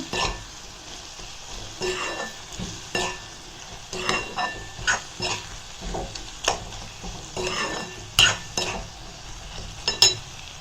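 Small green turkey berries fry in hot oil in a pan for a pickle, giving a steady close sizzle broken by repeated scraping stirs and clinks of a spoon against the pan, with no voices.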